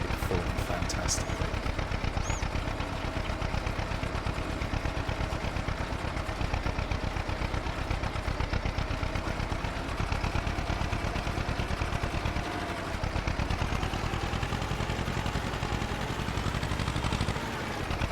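Tractor engine running in the video game Farming Simulator 22, a steady mid-pitched drone that holds throughout with a slight dip and swell near the end, while a player talks over it.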